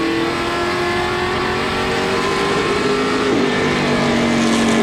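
Pro Stock race cars at Wiscasset Speedway roar loudly into a turn, a steady dense engine drone with a pitch that drops slightly as the cars pass, no talk over it.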